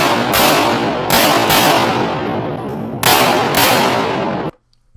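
Pistol shots ring out at an outdoor shooting match, loud and close, in two quick pairs with a long booming echo that fills the gaps, then a sudden cut to near silence.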